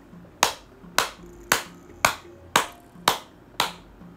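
Seven sharp hand claps ring out at an even, unhurried pace, each crisp and close with a short decaying tail, alone in a quiet room.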